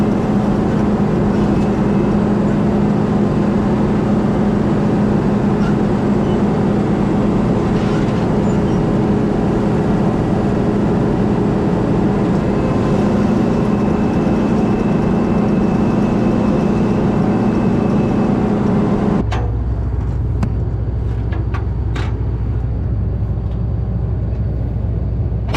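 A combine harvester's heavy diesel engine drones loud and steady up close as the machine is driven without its header, then the tone drops abruptly to a lower idle near the end.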